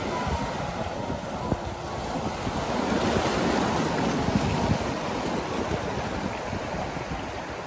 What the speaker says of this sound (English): the sea's pushing up with all that stormy weather